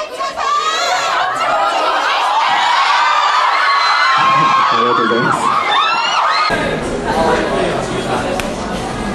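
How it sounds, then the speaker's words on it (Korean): A dense crowd of fans at a Korean event for the Japanese actor Satoshi Tsumabuki cheers and screams enthusiastically, with loud, high-pitched shrieks and whoops sustained throughout. "특히 츠마부키 사토시는 기대 이상의 뜨거운 환호를 보인 팬들의 반응에 당황해하면서도 기쁨을 감추지 못했습니다"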